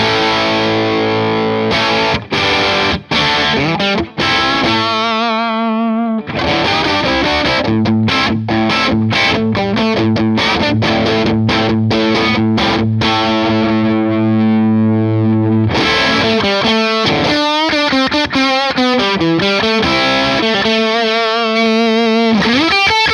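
Electric guitar played through a Boss DS-1 distortion pedal, with heavily distorted chords and sustained notes, loud and close, with brief muted gaps between phrases and shifting tone across settings.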